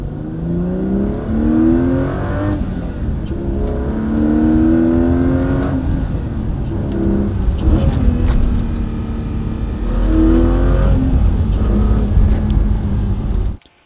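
A classic Aston Martin Vanquish with an ASM automated manual gearbox pulls away from rest after a slight throttle dab, its engine humming low and steady near 900 RPM with gentle rises in pitch, heard from inside the car.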